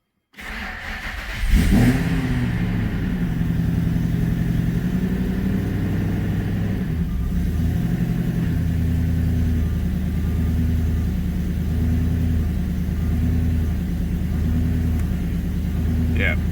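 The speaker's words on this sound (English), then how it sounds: "I'll start it up and see if I can sort out the idle and everything" Car engine fitted with a Boss 290 intake plenum starts up, then idles with a deep rumble broken by several short revs rising and falling, loud and close.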